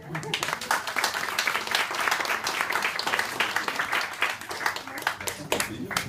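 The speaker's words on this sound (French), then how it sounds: "on peut l'applaudir" A crowd at an art exhibition opening claps for a guest, a steady, lively patter of many hands lasting several seconds, with voices mixed in beneath it.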